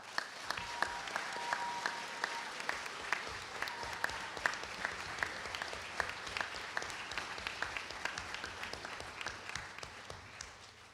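A Model UN opening ceremony audience claps for the committee chairs, a sustained, fairly faint round of applause with dense individual claps lasting several seconds.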